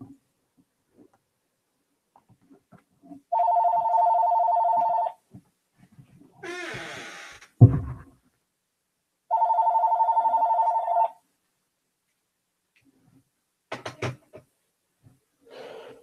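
A telephone rings twice in long, loud electronic trills indoors, with clatter, a heavy thump and handling noises between the rings.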